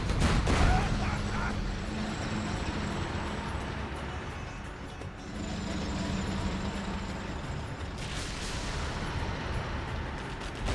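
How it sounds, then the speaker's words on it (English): Artillery fire in a real-time strategy game set on a desert map: deep booms and rumbling impacts, strongest at the start and again near the end, over a dense battle din while commentators talk. "Artillery hits the arms dealer"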